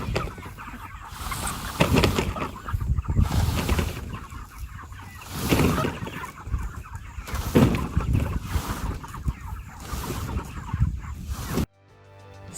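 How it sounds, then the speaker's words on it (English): Seven-week-old meat chickens, a flock of broilers, cluck and murmur continuously at close range, with a rough noisy background before an abrupt cut at the end. "So these are our oldest meat birds and they are at 7 weeks"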